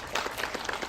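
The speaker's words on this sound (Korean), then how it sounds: "박수 한번 부탁드립니다" An audience claps at a film screening with a guest visit for the Korean movie In Our Prime, a short burst of steady, moderately loud applause with no talking over it.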